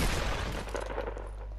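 Gunfire in the Fortnite battle royale game, a dense burst of shots that is loudest in the first half second and then settles into a steady, lower rumble of continued firing.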